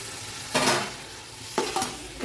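Three tomatoes stirred through hot oil in a pan for chicken dum biryani: a steady background sizzle with two or three louder scraping stirs breaking through, close and without talk.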